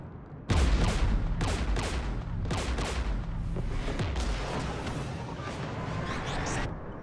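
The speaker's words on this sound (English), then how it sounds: "We're taking fire." Sustained heavy gunfire from Geth anti-aircraft guns in Mass Effect 3, a dense fusillade of rapid booming bursts with low thuds rolling on for several seconds, loud and close.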